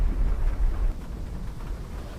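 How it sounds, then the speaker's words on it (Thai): A steady rumbling thunderstorm with wind and rain roars in the Roblox game Helicity, loud and continuous with a heavier low rumble at the start. "เอ้เราอยู่ใต้พายุปะเนี่ย"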